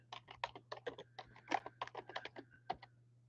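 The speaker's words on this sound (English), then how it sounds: "I'm typing in the start point." Someone types on a computer keyboard during a live stream, a quick, uneven run of crisp, close keystrokes over a faint steady hum, with no talking.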